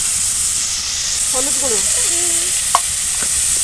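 Cut pumpkin and potato fry in a pan with salt and turmeric powder, giving a loud, constant hiss of frying with a few brief stirring knocks and faint tonal squeaks partway through.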